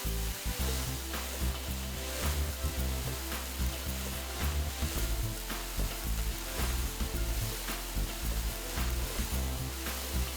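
Prawns sizzling hard in a hot pan while being stirred, a loud continuous fry with repeated scraping and tossing strokes throughout, no talking.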